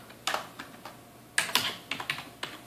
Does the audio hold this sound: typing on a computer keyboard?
yes